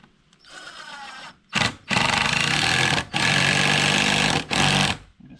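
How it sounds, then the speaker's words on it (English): A power driver sinks a screw into a green, self-milled deck board at an off-grid cabin, giving several loud buzzing bursts separated by brief pauses, close up and with no talking. "I'll try to put one screw in and see what it does."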